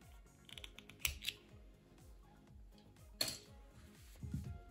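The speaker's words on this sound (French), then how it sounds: "je fais une maille en l'air et je viens couper mon fil" Scissors snip through a strand of cotton crochet yarn, giving two short, crisp clicks close by in a quiet room, with faint handling noise between them.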